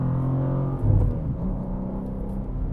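Steady low exhaust rumble from a 2024 BMW G87 M2 with manual gearbox while driving, a continuous drone with a brief swell in engine note, heard from inside the car with no voices.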